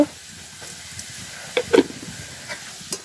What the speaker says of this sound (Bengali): যে শুকনো মরিচ দিয়ে দিচ্ছি, এখন জিরাটা দিয়ে দেব।